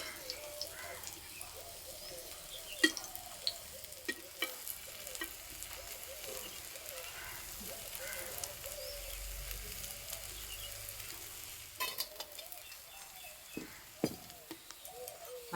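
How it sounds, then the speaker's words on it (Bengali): Malpua fry over low heat in a pan, making a quiet continuous sizzle with soft spattering and occasional clicks of a spatula close by, and faint birdsong in the background. "এই যে ভাজা হচ্ছে, যা সুন্দর গন্ধ বেরোচ্ছে।"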